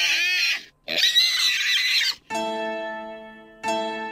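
A pig squeals and oinks loudly in several bursts, first harsh noisy squeals, then drawn-out tonal calls separated by short silences.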